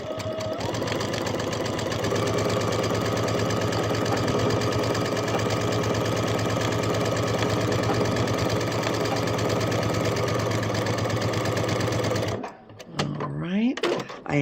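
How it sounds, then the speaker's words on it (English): A sewing machine stitches quilt row seams steadily and loudly for about twelve seconds, its rapid mechanical stitching hum continuous, then stops abruptly, leaving a brief quiet with faint rustling. "back at the sewing machine, ready to do our seams, putting these rows together"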